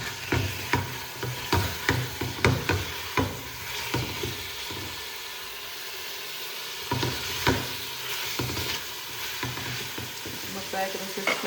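Chicken sizzling in a pan with tomato and green chili, stirred often, so scraping bursts come in a fairly steady rhythm over a constant close hiss of frying, with no talking.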